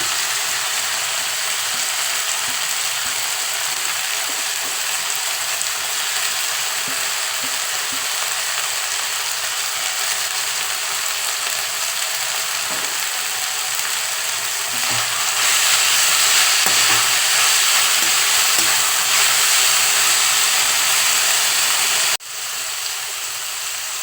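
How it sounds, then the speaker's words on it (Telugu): Coriander sizzles as it is stir-fried in a pan over a low flame for a mint-coriander chutney, a constant close frying crackle with scraping stirs, growing louder near the end before briefly dropping, without talk. "నేను కొంచెం స్టవ్ స్లిమ్లో పెట్టినాను ఇప్పుడు ఫ్రై చేస్తున్నాను"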